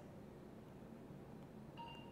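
Low, steady room hum, then one brief electronic beep from a MEG brain scanner's computer, signalling recording, toward the end, clean and fairly faint.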